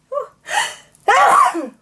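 A person sneezes twice in quick succession indoors, each burst short and explosive, with a brief gap between the two.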